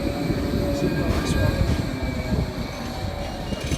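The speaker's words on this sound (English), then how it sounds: "This is going to be the last tram." A tram rumbles past on the Fleetwood tramway, a broad low rolling roar with rail squeal overtones, fairly loud and steady as it goes by, with people talking faintly in the background.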